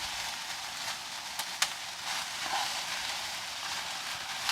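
Ginger sizzling as it cooks in a pan, a steady bright hiss of frying that runs continuously with a couple of brief sharp pops and clicks, close and alone without talk.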